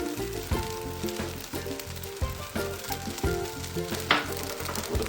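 Oyster sauce poured into a hot pan, a dense steady sizzle and frying hiss with faint stirring, close and continuous without speech.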